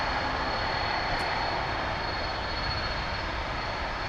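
Steady broadband engine roar of a Boeing 767 moving out at DFW Airport, holding level and unbroken for several seconds at a moderate distance.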